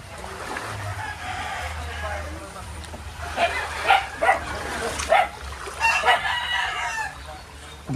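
A dog barks a few times in the middle distance amid rooster crowing and clucking chickens at a coop in Montalban, Rizal, during Typhoon Enteng flooding, with people talking nearby.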